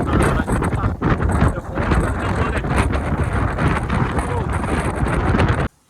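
Strong wind at a spot in Kanyakumari buffets the microphone in a loud, steady rush with gusty surges, cutting off abruptly near the end.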